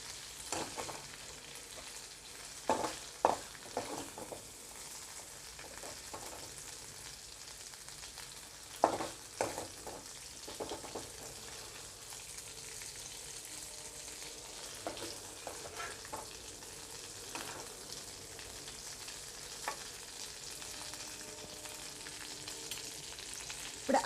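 Prawns frying in a kadai until their water cooks off, a long even hiss of sizzling oil with scattered spatula scrapes and knocks, fairly quiet and steady, nobody speaking.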